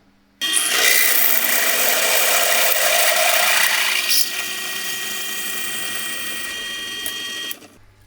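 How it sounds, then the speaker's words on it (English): A close, loud high-pitched whine of a drill grinding out a stuck, glued-in part of a sim racing handbrake, steady for several seconds, then easing slightly before abruptly stopping. "I'm going to try to drill it out."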